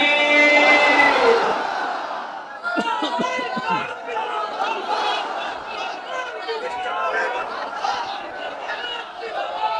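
A large crowd at an open-air Islamic sermon gathering roars a takbir in unison, loud bellowing shouts that break into scattered chatter.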